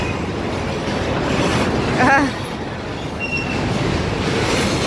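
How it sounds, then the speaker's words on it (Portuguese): A long freight train with a locomotive and many wagons rolls steadily through a town in Jaraguá do Sul, a continuous loud rumble with a brief wheel squeal in the middle. "muito grande essa locomotiva, com muitos vagões, muitos vagões"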